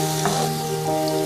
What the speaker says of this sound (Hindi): 1 मीडियम प्याज चॉप की हुई, इसको इतनी देर तक फ्राई करेंगे कि इसकी रंगत बदल जाए।